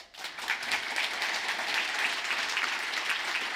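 Applause from an audience in a conference auditorium: a dense, sustained wash of many hands clapping at steady loudness from start to finish, with no pauses.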